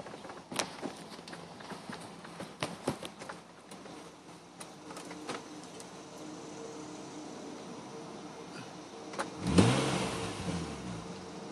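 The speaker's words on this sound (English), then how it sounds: "Let's give it a little rev." A 2004 Nissan Maxima Nismo, carrying check-engine codes for throttle and idle faults, idles quietly amid scattered footsteps and clicks, then its engine is revved once in a sharp rising surge that settles back toward idle.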